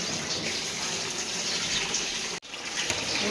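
Water gushes continuously and close by while buffaloes are bathed in a stable, a steady rushing flow with one brief cut before it resumes.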